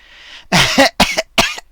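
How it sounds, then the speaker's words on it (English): A few close, harsh coughs in quick succession after a brief soft breath, loud and dry. "Excuse me, I've just got a cough."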